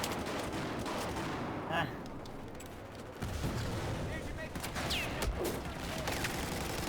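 Rapid bursts of gunfire crackle through a busy Battlefield 4 game soundscape, with scattered shots and louder volleys continuing steadily throughout.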